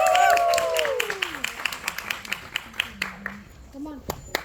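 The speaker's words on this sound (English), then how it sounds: "we want good round of applause for them" Audience applause at a school pop-up show, a moderate burst of clapping with rhythmic individual claps near the microphone, children's voices and talk mixed in over roughly four seconds.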